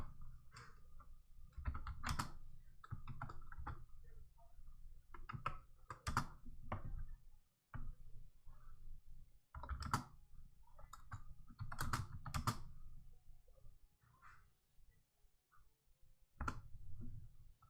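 A computer keyboard is typed on in irregular bursts of clicks and taps, recorded close while streaming a Hogwarts Legacy building session, with brief pauses between flurries.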